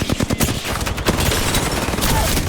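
Rapid bursts of distant gunfire crackle on and off, with steady game background noise beneath and no speech.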